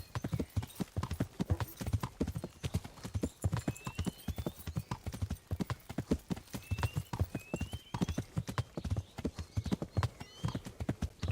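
Horse hooves clip-clop steadily and rapidly in Kingdom Come: Deliverance, a dense, even rhythm of close, loud hoofbeats running throughout with faint tonal game sounds above.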